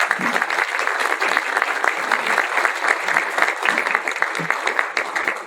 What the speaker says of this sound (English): Would you please join us in giving a round of applause